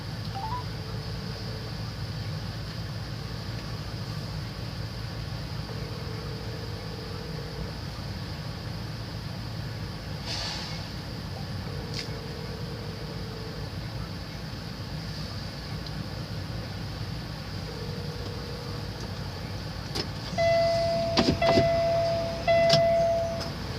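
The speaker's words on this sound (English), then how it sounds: "Let's give my buddy Barry a call and let's see if he answers this time" Repeated ringback tones pulse at even intervals over a steady hum of car road noise, followed near the end by a quick burst of dial tones.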